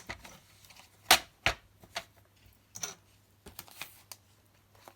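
A paper cutter works through a plastic A4 sheet in a few sharp, separate clicks and snaps. Between them come softer scraping ticks, close up and with no talk.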